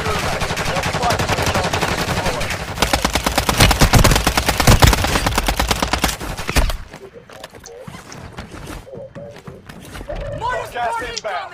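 Dense automatic gunfire in a shooter video game, loud continuous bursts that stop abruptly partway, followed by quieter game sounds and players talking.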